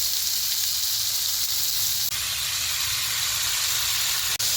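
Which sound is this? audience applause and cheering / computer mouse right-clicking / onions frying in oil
onions frying in oil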